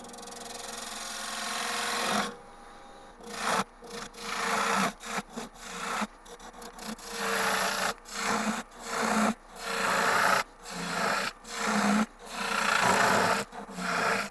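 A wooden goblet bowl spins on a lathe as a tool cuts into it, giving repeated scraping, rasping passes that start and stop in a steady rhythm of short bursts, close and fairly loud.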